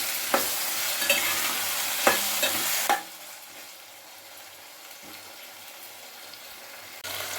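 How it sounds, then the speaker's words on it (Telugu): Chicken pieces cooking in hot oil with turmeric and salt, a bright sizzle with stirring scrapes for about three seconds, then dropping to a softer steady simmer with occasional clinks. "చికెన్ తొందరగా మంచి నూనెలో ఉడుకుతుందండి"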